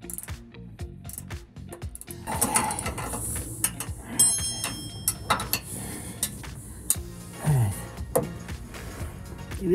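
Ratchet loosening a bolt on the front bumper of a Toyota Tundra, producing scattered metallic clicks and clinks of varying loudness, close by, with no talking.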